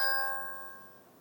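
A Tapo H100 smart hub plays a chime ringtone: a single bright, bell-like tone struck once, close and clear, then ringing out and decaying smoothly over about a second.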